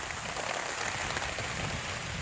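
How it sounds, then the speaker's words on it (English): Storm rain pouring steadily outdoors at Little Manatee River State Park in Florida, a dense, even hiss heard from beneath a hammock shelter, with no talk. "You'll see out there, it's raining, for sure."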